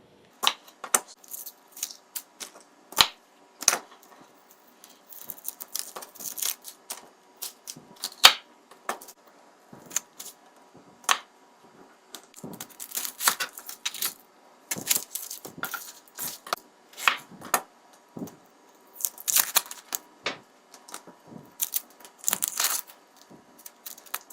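A knife cuts through peeled, quartered onions on a board, irregular crisp snaps and taps scattered close and clear through quiet gaps, with no speech.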